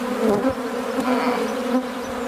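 Honey bees buzz steadily in an open hive during a frame inspection, a dense, continuous close hum with slight swells and no talking.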